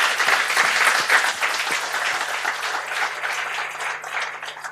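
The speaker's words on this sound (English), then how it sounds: "Let's give them a big round of applause." A large audience gives a sustained round of applause at a satellite 5G communications tech talk, dense clapping starting loud and gradually thinning toward the end with no talking over it.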